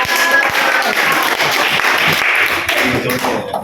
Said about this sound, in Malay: Tepuk tangan bagi Faisal.